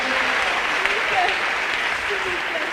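Congregation clapping and acclaiming during a worship service: a dense, steady wash of applause with voices calling out, filling the room evenly throughout.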